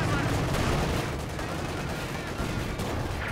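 Rapid aircraft strafing gunfire from an R2 strafe in the strategy game Company of Heroes 2, a dense continuous rattle of shots and explosions filling the whole stretch at steady loudness.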